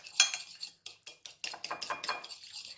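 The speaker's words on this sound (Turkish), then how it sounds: "yumurta sarısını pekmez ile birlikte çırpıyoruz" Egg yolk whisked with a teaspoon of grape molasses in a bowl while preparing kandil simidi dough: quick, rhythmic clinking strokes of a utensil against the bowl, close and clear, with no talking.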